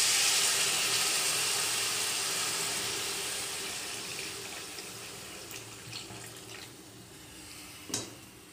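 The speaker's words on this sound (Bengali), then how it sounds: "জল দিয়ে দেবো।" Water pours steadily into a pan of fish and potato curry with its spices, a broad rushing splash that slowly fades, ending with a brief clink near the close.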